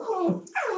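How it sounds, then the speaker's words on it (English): A dog whimpering and yipping at a little dog on a deck, a brief, close, high-pitched whine rising and falling in two quick bursts, alone without talk. "that's my dog saying hello to a little dog on the deck"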